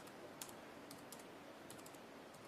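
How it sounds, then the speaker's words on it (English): Typing on a Bluetooth keyboard paired to a Motorola Xoom tablet running Android 3.0 Honeycomb, a quiet, irregular run of soft key clicks in short bursts against a faint background hiss. "I'm actually typing this in with a Bluetooth keyboard off screen."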